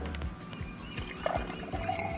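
Water running through a newly fitted boat down pipe and out the through hull, a brief gurgling pour with drips and trickles, close and without talk.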